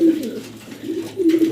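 A pair of large Bombay pigeons at a pigeon shop give soft, throaty coos close by, three short rolling calls in quick succession.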